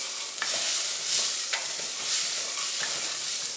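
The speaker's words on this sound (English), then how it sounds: "the stirring while you're heating is another step that eliminates clumpy, mushy rice" Rice being stirred in a hot pan, a steady hiss of sizzling with soft scraping strokes of the spoon recurring every second or so, close and continuous.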